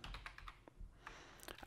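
Quick clicking keystrokes on a computer keyboard while entering JavaScript code, close and fairly quiet, with a short pause mid-way before another cluster of taps.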